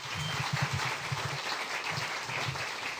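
An audience at a bookstore's fourth-anniversary gathering applauds in a dense, steady patter of clapping, moderately loud and continuous for the whole stretch.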